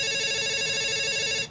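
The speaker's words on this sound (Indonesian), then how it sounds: "Ada suara telepon" A telephone rings with a sustained electronic tone, loud and continuous, cutting off right at the end.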